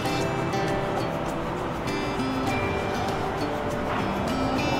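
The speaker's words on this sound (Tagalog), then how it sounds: "Naririnig ko motor eh." A motor engine at the seashore drones steadily and loud, its even hum running without a break over a broadband rush of surf.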